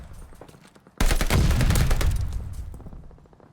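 Automatic gunfire in Call of Duty: Vanguard, a competitive online match, where a sudden loud burst of rapid shots erupts after a quieter start, sustained for a couple of seconds before tapering off.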